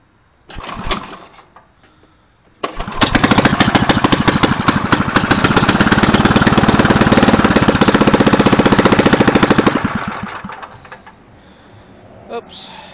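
A Jacobson engine cold-starts on full choke after sitting a week, with a brief cough, then a sudden loud rapid chugging run of several seconds that fades and dies, close up, with a voice around it.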